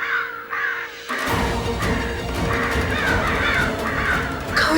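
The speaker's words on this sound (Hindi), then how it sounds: "कौवे की आवाज।" Several crows caw repeatedly, loud and close, their harsh calls overlapping in an irregular rhythm against a noisy outdoor background.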